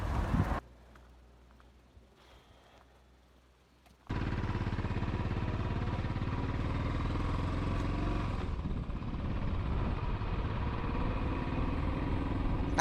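Steady motorcycle engine drone with rushing wind noise while riding along Cotswold country lanes, continuous and close after a brief quiet opening.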